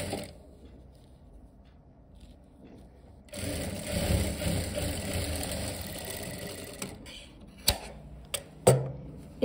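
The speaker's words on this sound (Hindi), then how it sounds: "अब देखिए पूरा सीधा इस तरह से सिलाई लगा देंगे।" An electric sewing machine stitches a straight seam along a formal pant's waistband belt, a steady loud whirring run that starts abruptly after quieter mechanical hum, then ends in a few sharp clicks and knocks.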